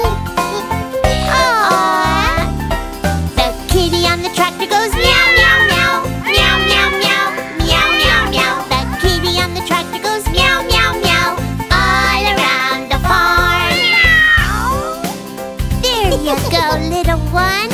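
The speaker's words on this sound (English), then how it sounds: "Oh my, look at the kitties." Several cats meow repeatedly at close range, their cries overlapping with a light jingling in the background.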